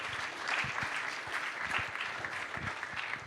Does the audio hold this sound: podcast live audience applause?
yes